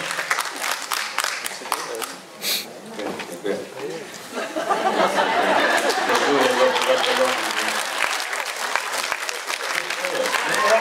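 A theatre audience applauds a band on a comedy programme, with dense, steady clapping that swells and holds, mixed with crowd chatter and voices.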